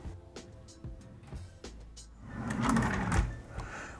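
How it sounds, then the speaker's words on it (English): A soft-close kitchen drawer is slid back into its cabinet and shut, with several light clicks and knocks, then a louder sliding rumble and a cushioned thud, all quiet and close. "the final step is to reinstall the drawer and make sure everything is working properly"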